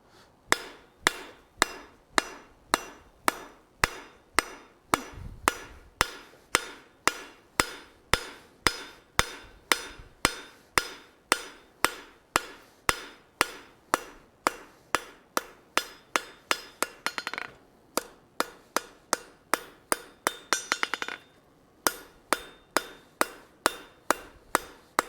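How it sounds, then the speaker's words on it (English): A blacksmith hammers mild steel while forging a pair of tongs: loud, close, evenly spaced ringing strikes, about two per second, continuing steadily with brief pauses between bursts. "I'm gonna hammer this out some more."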